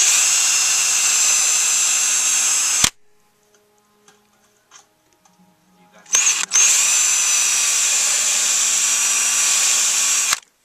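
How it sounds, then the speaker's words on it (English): Loud, high-pitched whine of a power drill pre-drilling screw holes while building a bowtie antenna, running for a few seconds, a brief pause with faint clicks, then drilling again. "That's where I'll be drilling the hole, because I'll be pre-drilling before I put the screws in."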